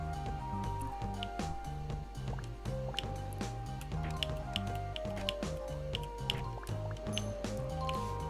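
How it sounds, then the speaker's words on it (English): Flowing river water in the SuperTux platform game plays as a soft, looping stream of watery drips and splashes layered over steady tonal background music, moderately quiet and continuous. "But this river, yeah, that sounds pretty pleasant"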